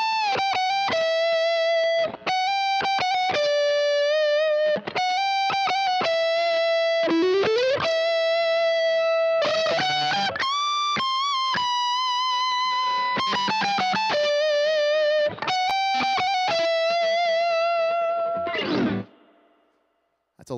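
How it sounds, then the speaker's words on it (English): An electric guitar solo played through an Ibanez SD9 Sonic Distortion pedal, heavily saturated sustained notes and quick runs with bends, ringing loud and continuous before a final note fades out. "That's a lot of distortion to try to tame"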